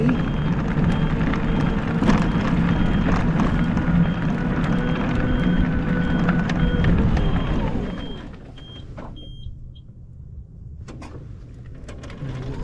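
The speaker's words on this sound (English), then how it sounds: "I don't know why it was beeping" A Baja Wrangler 2 drones steadily with a faint, repeating electronic warning beep; the engine noise drops away and a few isolated beeps continue in the quiet.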